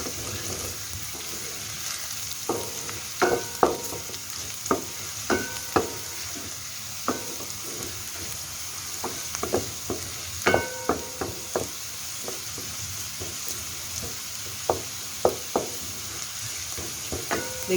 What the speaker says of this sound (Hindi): ये 1/2 टीस्पून ज़ीरा इसके अंदर ऐड कर देना है और ज़ीरे के साथ जो है इसको अच्छी तरह भूनना है